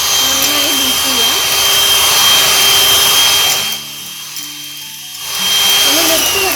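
An electric mixer beats whipping cream at high speed for a tiramisu pudding, a loud steady whine close up that drops away briefly mid-clip before resuming, with a voice faintly heard underneath.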